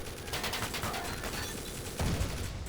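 Rapid, dense gunfire rattles steadily while turrets are shot out in the Ion Fury: Aftershock video game, a continuous loud fusillade with a heavier burst near the end and no talking.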